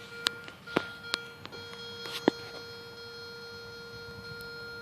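A metal detector emits a steady electronic tone while scanning over a buried target, with short sharp clicks and taps scattered throughout, faint and close.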